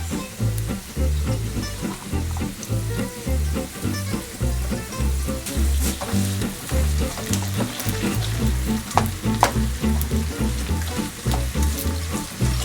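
A potato and cheese galette, sliced potatoes layered with grated cheese, fries uncovered in a pan, giving a steady, loud, continuous sizzle with crackling pops throughout.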